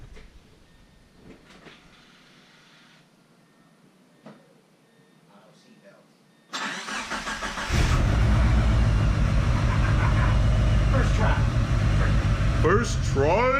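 A DSM car's engine cranks and fires after a quiet stretch with faint knocks, then settles into a loud, steady, rumbling idle close by, with a voice briefly talking over it.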